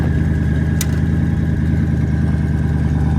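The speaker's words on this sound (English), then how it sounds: "The turbo noises this thing makes is just so damn good." Twin turbo Fox Body Mustang engine running close by, a steady rumbling idle with a constant turbo whine above it and one brief sharp hiss partway through.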